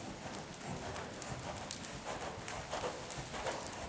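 Horse hooves clip-clopping in a steady three-beat counter canter around a riding arena, continuous and moderately close, with a faint background of arena noise.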